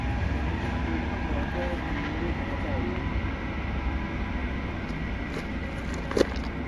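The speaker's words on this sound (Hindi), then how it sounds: "भैया ट्रेन की स्पीड देखी।" A train rumbles past, a dense, steady roar with a faint voice and a brief sharp knock near the end.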